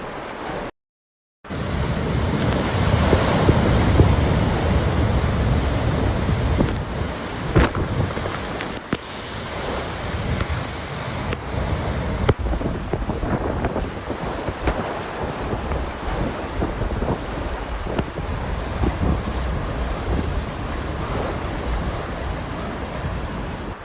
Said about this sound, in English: Typhoon Nanmadol hit the island of Kyushu.